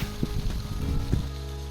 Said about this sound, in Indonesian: Selanjutnya kita tumis-tumis kangkung dan juga sambal tempenya sampai matang.